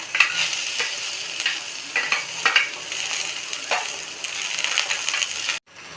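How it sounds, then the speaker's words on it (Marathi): Onions fry in oil for chicken masala gravy, a loud, close, steady sizzle broken by sharp scraping stir strokes, cutting out briefly near the end. "त्याच तेलात आपण कांदा भाजून घेऊ"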